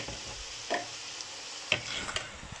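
Peppers go into a pan of minced meat and onions, giving a soft, steady sizzle with a few light scraping stirs and knocks, close and fairly quiet.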